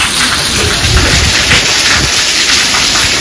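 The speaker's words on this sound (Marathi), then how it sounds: "जेव्हा बघू शकता तुम्ही एकदम नेक्स्ट लेवलचा पाऊस चालू आहे." A heavy downpour during a lightning storm roars loud and unbroken at close range, a dense wash of rain with no distinct thunderclap or voices.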